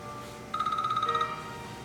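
An office or business telephone rings with a rapid electronic warble, one sustained burst of about three quarters of a second, close and clear over a low background hum.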